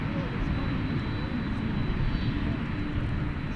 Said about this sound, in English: we've got an American Airbus A319 coming in from Pensacola